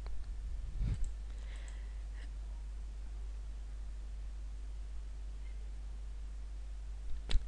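Computer mouse clicks while stepping through a software installer, heard as a sharp click near one second and another around seven seconds, faint and isolated over a steady low hum.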